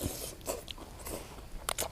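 Crunchy bites into a spicy Thai salad of glass noodles and instant noodles, several sharp crisp snaps close to the mic with soft chewing between them and no talking.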